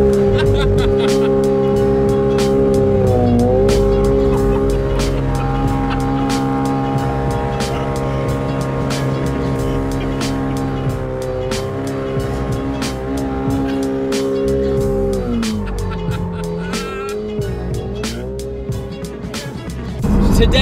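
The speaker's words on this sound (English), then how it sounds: "Light up the tires. Okay, selfie donut." A Ferrari 458 Speciale spins donuts during a drifting session, its engine roaring loud and sustained with steady high revs and shifting pitch, tire squeal blended into the drone throughout, with a voice heard briefly.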